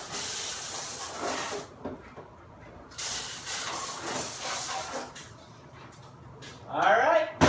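Water from the spray arms hisses and splashes inside a Frigidaire dishwasher, a steady broadband spray that surges in bursts and falls off between them, with a person talking over it.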